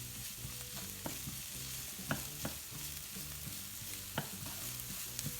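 Onions sizzle quietly in a frying pan with a soft, steady crackle, broken by occasional scraping stirs and clinks of a utensil.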